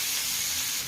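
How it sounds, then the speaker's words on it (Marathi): Cluster beans roasting in a little oil on a hot griddle give off a steady, close hiss of sizzling that holds evenly throughout, with no voices over it. "तेल टाकून थोडंसं तव्यावर छान अशा भाजून घ्यायच्या शेंगा"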